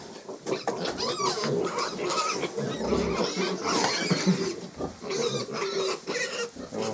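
Busy, continuous grunting and squealing from a group of week-old piglets, close by, with overlapping snorts and shuffling throughout.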